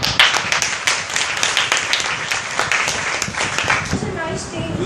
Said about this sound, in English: Good, give her a big clap.